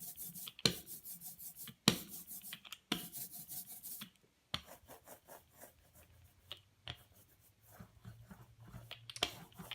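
Roller spreading ink across a linoleum block printing plate, giving a series of soft rubbing, tacky rolling passes in bursts separated by brief pauses, fairly quiet and close, with no talk.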